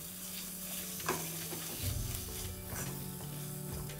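Spices stirred in oil in a pan over a low flame, a gentle continuous sizzle under soft repeated scraping of a spoon, with a low steady hum underneath and no speech.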